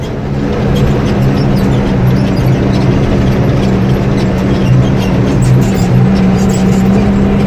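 A tractor engine runs steadily through a sunflower harvest, a loud, continuous drone with a constant low hum close by.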